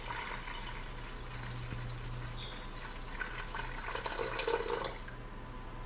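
Water is poured into a container while measuring it for a recipe in a homestead kitchen, a faint steady trickle that grows into louder splashing toward the end, with no talk.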